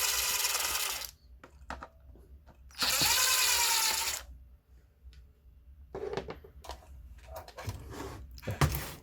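Tools taking apart the carburetor of a brush cutter during repair: two loud bursts of whirring power-tool noise, then quieter clicks, ratcheting and metallic handling sounds close by.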